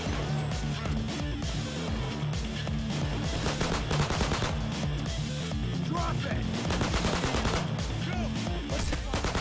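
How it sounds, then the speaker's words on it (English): Gunfire in the video game Payday 2 on Death Wish difficulty: dense, continuous bursts of automatic and pistol shots crackle without pause, loud and busy, with players talking underneath. "Yeah, I'm gonna kill my mouse when I shoot this much."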